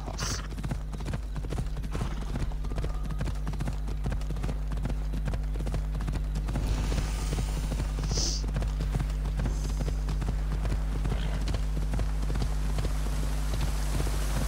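Horse hooves clip-clop at a steady walking rhythm in the Assassin's Creed Odyssey video game, loud and continuous over a constant low background hum, with a brief whinny partway through.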